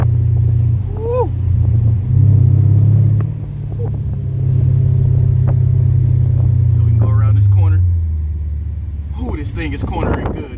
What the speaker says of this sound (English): that V8 motor just keeps it good